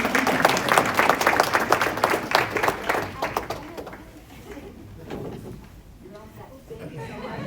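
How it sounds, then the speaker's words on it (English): Applause for Adeline at a board of education meeting, a room of people clapping loudly for about three and a half seconds before it fades into murmuring and crowd talk. "Can we give Adeline a round of applause?"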